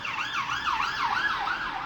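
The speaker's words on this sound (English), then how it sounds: "Someone asked, what do UK police sirens sound like? There you go." A UK police car siren wails in continuous rising and falling sweeps, loud and steady. It dominates the sound with no voices present.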